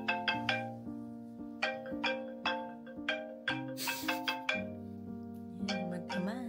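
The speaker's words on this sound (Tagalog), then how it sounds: "Nag-a-alarm yung cellphone sa tabi niya." A cellphone alarm rings beside a sleeping child, a repeating melodic ringtone of plucked, chiming notes in a steady pattern, fairly close and with no one talking over it.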